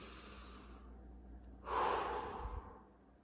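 A slow, deep breath drawn in and let out during a relaxation exercise, swelling to a soft, close rush of air and fading away, with no talking.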